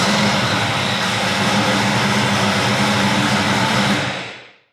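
A vehicle engine under construction in a build project fires up after the ignition and fuel pump are switched on, a loud steady roar that holds for about four seconds before cutting off and fading quickly.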